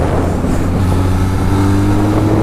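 Benelli Leoncino motorcycle on a slow, relaxed ride, its engine a steady low drone mixed with rushing road and wind noise, continuous and fairly loud throughout.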